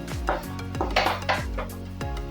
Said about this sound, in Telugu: మనం అడుగు పట్టకంట కలుపుతూ ఉండాలి. చక్కగా ఉడికిపోద్ది బెల్లంలో.